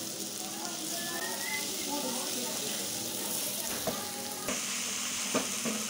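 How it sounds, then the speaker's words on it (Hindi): Chopped cabbage and mixed vegetables for a macaroni dish fry in a pan, giving a soft, steady sizzle with occasional stirring clinks and scrapes near the end. "अब थोड़ी देर मैं इसे भूनूंगी, दो तीन मिनट के लिए"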